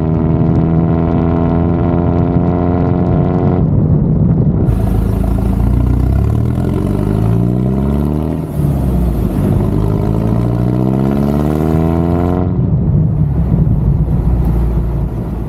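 An off-road car on Dartmoor roars and revs through rising and falling pitch sweeps, the throaty exhaust note swelling and easing with no voices.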